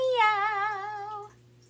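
A person imitates a black cat's meow with one drawn-out, wavering, sing-song call lasting about a second, close and clear, with a low steady hum underneath.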